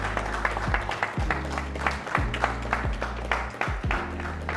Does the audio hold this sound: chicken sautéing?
no